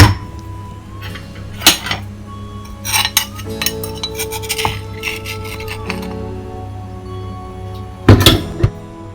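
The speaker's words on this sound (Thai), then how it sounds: "ตำละเอียดแล้ว ก็เอาช้อนลงไปตักนะคะ" A spoon scrapes and clinks inside a mortar, scooping out pounded garlic and pepper. Several sharp metallic taps and a sustained ringing tone sound up close, then a loud clatter comes near the end.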